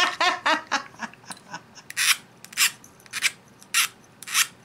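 A metal spoon pendant being hand-filed: rough, rasping strokes in an irregular rhythm, some short and quick, others longer and brighter, close up and moderately quiet with no speech.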